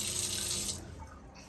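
Water streams from a newly installed swivelling kitchen faucet into a sink, a steady hiss that cuts off partway through, leaving a quieter residual trickle and room tone.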